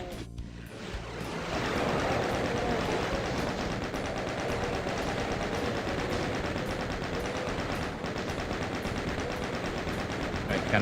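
Chaingunner machine gun fire in Doom II, rapid continuous automatic bursts rattling steadily at moderate volume, with game noise and a faint voice underneath.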